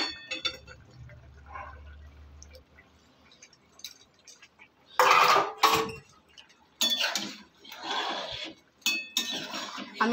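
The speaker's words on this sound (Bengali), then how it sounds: "এবার বেগুনগুলো দিয়ে দেব।" Eggplant pieces drop into a pan of simmering hilsa fish curry, with bursts of loud sizzling and clattering against the pan, separated by brief quieter gaps of low bubbling.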